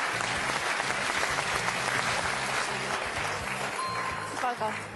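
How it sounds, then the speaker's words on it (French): Audience applause at a French-language quiz show, sustained clapping from a crowd under a host's talk, with a brief musical jingle near the end. "Applaudissements pour Anna quand même."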